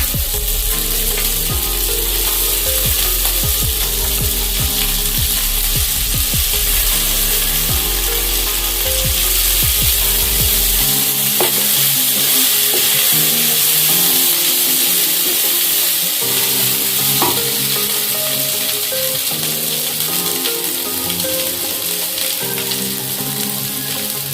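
Rice grains frying in a pan for navratan pulao give a steady, loud sizzle with scraping and clicking of a spatula, continuous throughout with a low hum in the background early on.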